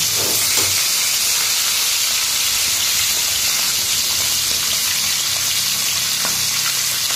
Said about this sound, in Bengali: দেখো এখন এই মাছগুলো ভেজে নিচ্ছি